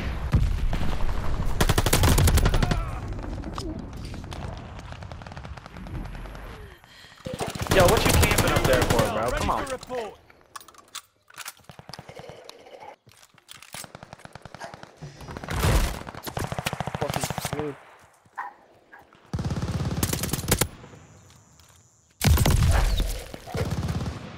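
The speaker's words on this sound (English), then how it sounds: "the recoil on this gun is insane, dude" Bursts of automatic gunfire in a free-for-all match of Call of Duty Vanguard on the Das Haus map, loud rapid volleys separated by quieter gaps.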